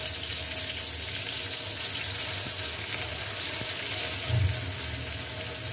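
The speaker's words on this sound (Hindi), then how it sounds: "अदरक लहसुन का पेस्ट ऐड कर लेने के बाद इसको भी मैं फ्राई करूँगी चम्मच से मिक्स करते हुए" Ginger garlic paste frying with onions in a pan gives a steady, even sizzle throughout, with a spoon stirring and a soft knock near the end, no voices.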